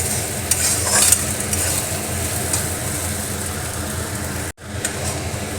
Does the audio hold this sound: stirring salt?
yes